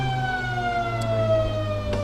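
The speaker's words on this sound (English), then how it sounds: "that is the quarter time siren" A loud sustained siren sounds at quarter time of a country Australian rules football match, Mount Compass versus Victor Harbor, holding a steady drawn-out tone with no talk over it.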